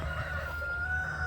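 A rooster crows inside a backyard chicken shelter, a steady harmonic call held close and fairly loud over a low rumbling background with no voices.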